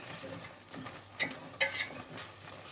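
Spoon stirring and turning over broccoli in a cooking pot, a few scraping clinks and soft knocks, two louder scrapes near the middle, quiet and close with light background hiss.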